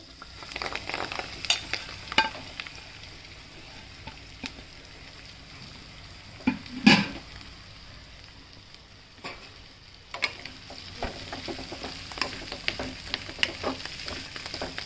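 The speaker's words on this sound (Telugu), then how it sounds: "ఇప్పుడు ఇది వేపించుకుందాం" Tamarind flowers frying in a pan, a steady crackling sizzle with scattered ticks and one louder clatter of stirring midway, close and alone.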